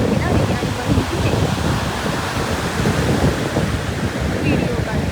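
Surf rolls onto the seashore at Kunkeshwar beach, a loud continuous wash of waves mixed with heavy wind rumble on the microphone.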